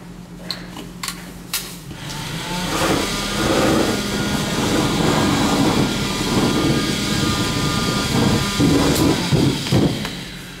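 Insulation blowing machine forcing insulation into holes in a church wall, a loud steady roaring whoosh that fills most of the clip after a few knocks and clicks at the start.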